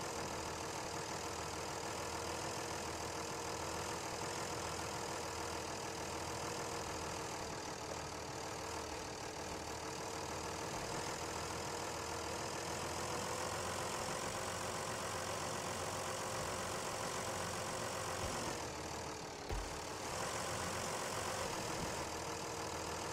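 A tractor engine in the SnowRunner video game labors while pulling a truck loaded with a Thar out of deep mud, a continuous loud droning rumble with a steady low throb and a brief dip near the end.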